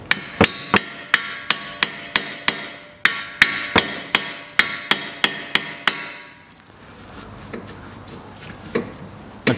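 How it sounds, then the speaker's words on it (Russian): Screwdriver hammered into a slot to wedge open the front wheel hub of a 2010 Chery Amulet 1.6 during a bearing replacement: about sixteen sharp, evenly spaced metallic hammer blows, close and loud, then quieter shuffling handling noise. "Здесь вот в прорезь забиваю отвертку."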